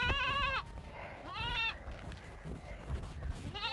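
Livestock bleat loudly and close by in three separate wavering calls, with the sound fitting a sheep or goat. Background chatter and rustling fill the gaps.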